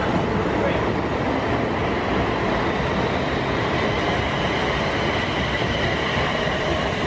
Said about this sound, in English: that's another Corby train going